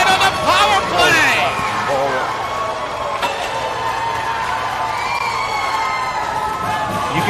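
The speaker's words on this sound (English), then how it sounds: "You can hear the fans screaming in attendance here." Fans in a rink arena cheer and scream during a youth hockey game, a loud, sustained crowd roar with shrill whoops and children's shouts, broken briefly by a sharp knock.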